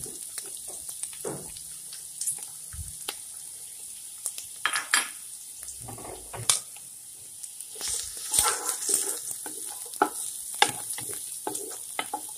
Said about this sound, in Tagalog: Init na po ang mantika, ilagay natin ang sibuyas una